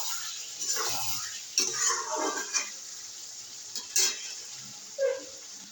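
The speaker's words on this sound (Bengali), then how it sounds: "ভালো করে কষিয়ে নেব।" Egg curry masala is sautéed in a pan, a loud close hiss of frying broken by repeated scraping stirs and clanks of a utensil against the metal.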